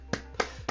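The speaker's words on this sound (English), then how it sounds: "I'm going to give them a round of applause." Three separate hand claps spaced evenly and close to the mic, sharp and dry, with quiet background hum between them and no talk.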